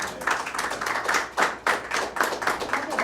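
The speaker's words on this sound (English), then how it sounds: "Another big hand of applause to our governor and our lieutenant governor" A crowd at a gubernatorial inauguration gives a round of applause, dense sustained clapping with a pulsing rhythm, close and fairly loud throughout.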